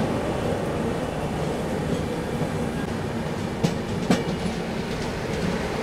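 Steady rolling rumble and rattle of a train on the rails, heard from aboard the Seemanchal Express as another train crosses, with a couple of sharp clacks from the wheels partway through.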